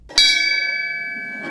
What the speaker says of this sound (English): The retirement bell is ringing for Grand Prairie's fire chief.